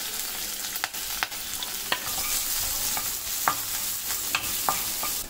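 Garlic, green chilli and cumin sizzling in a little oil in a pan, a steady close hiss broken by several sharp spoon taps and scrapes against the pan.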